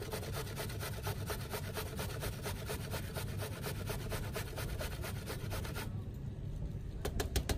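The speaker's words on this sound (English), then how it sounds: "with the carrot, just gonna grate that." A carrot is grated by hand in a rapid, even rhythm of rasping strokes, close and continuous, with a short pause near the end before the scraping resumes.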